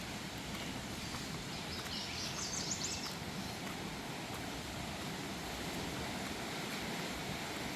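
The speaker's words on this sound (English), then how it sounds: "Wow, you can really hear the waves." Waves on a lake at Lakeside State Park wash in a constant, steady roar, with a faint bird call briefly rising above it.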